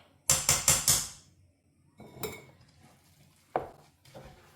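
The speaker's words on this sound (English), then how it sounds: "Now mix and add the remaining ukwa." Ukwa breadfruit being mixed with salt and palm oil in a pot, heard as a quick burst of four metallic spoon clanks followed by a few isolated scrapes and knocks, close by and with no talking.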